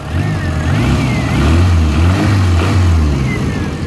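A 1994 Suzuki Sidekick mud truck's engine roars steadily, rising briefly in a rev before settling back, loud and close throughout, in cold weather.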